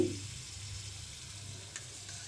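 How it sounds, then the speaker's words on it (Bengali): Spice paste frying in a pan for rohu fish curry, a soft steady sizzle with faint stirring and one brief clink, close and fairly quiet, no talk. "আমি কিন্তু মশলাটা খুব সুন্দর করে কষিয়ে নিয়েছি"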